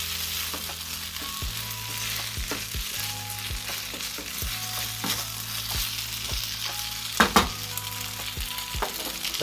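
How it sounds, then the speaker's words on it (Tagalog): Dumplings frying in a pan give a steady close sizzle while they are stirred and tossed, with scattered scraping clicks and a brief louder clatter near the end. "Tsaka ihalo natin ang ating dumplings"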